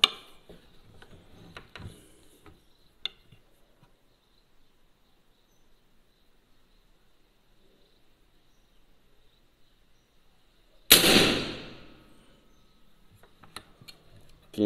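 A PCP air rifle fires a pellet in one sharp, loud report that breaks a long near-silence and fades quickly, with a few faint ticks and handling noises before and after.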